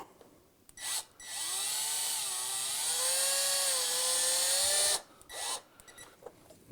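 A cordless drill driver on speed 1 drives a screw into wood in one long, steady whirring burst of about four seconds. Its pitch rises slightly as the screw goes in, with short spurts before and after.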